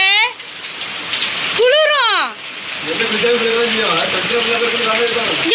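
Steady heavy rain pours down with a broadband hiss in Tiruchendur, while voices speak and call out over it.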